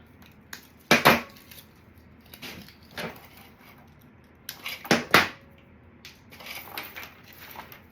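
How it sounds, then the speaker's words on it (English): Pine cones are clipped apart for a red and green nutcracker drum centerpiece, heard as a few sharp, close snaps and cracks in two clusters with quieter handling rustles between them. "I'm going to cut these pine cones off"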